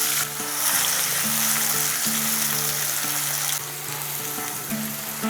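Chopped onion hitting hot oil tempered with whole spices such as cloves, giving a loud, steady sizzle and crackle that settles into continuous close frying; a low hum runs underneath and no voices are heard.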